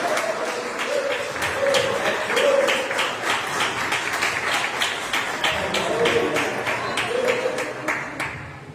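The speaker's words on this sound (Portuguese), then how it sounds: "as palmas louvam a Deus" Rhythmic clapping from a church congregation during a family celebration service, a crowd striking hands in a steady beat throughout, with a sustained musical tone underneath and the claps thinning out near the end.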